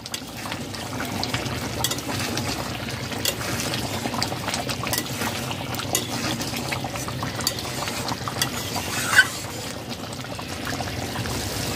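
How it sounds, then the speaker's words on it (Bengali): Okra curry bubbling in a pot, a steady close simmering burble with soft liquid churning throughout and one brief clink near the end. "2 মিনিট ফুটিয়ে নিয়েছি"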